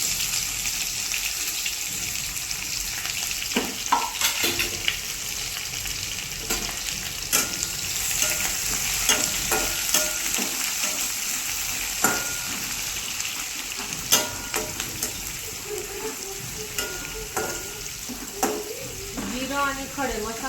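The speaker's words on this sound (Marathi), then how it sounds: "कांद्याला मस्त गोल्डन ब्राऊन कलर येईपर्यंत हे करते, भाजून घेते." Chopped onion frying in hot oil with whole spices such as bay leaf and cumin, a steady close sizzle broken by scraping stirs and occasional clinks of utensils.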